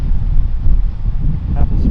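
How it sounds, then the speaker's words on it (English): Afternoon wind whipping down the John Day River past a campsite, a steady low roar of gusts buffeting the microphone, loud and continuous. "Happens to be a windy afternoon. It's coming whipping down the river here"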